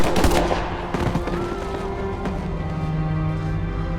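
Gunfire from a firing squad in a harbor execution scene, with a sharp cracking volley up front followed by scattered echoing reports fading into a low rumble.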